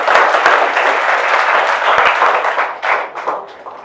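Audience applause, a loud burst of many people clapping that thins out into scattered, uneven claps over a few seconds.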